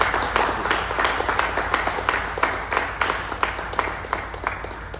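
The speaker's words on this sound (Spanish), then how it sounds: "el momento debe de ser propicio para darle un aplauso" A crowd applauds a writer at a book presentation, with dense continuous clapping that stays loud and even for several seconds.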